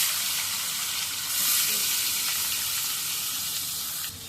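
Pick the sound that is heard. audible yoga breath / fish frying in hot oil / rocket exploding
fish frying in hot oil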